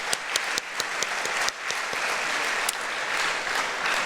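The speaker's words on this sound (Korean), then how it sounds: "다시 한번 우리 큰 박수 해주시면 좋겠습니다" A church congregation applauds at a Sunday praise service, dense, even clapping from many hands with a few sharper individual claps standing out.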